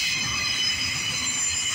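A CSX southbound autorack freight train rolls past close by, with 3369 in the lead, a loud continuous rumble and high metallic wheel squeal filling the whole clip with no voices.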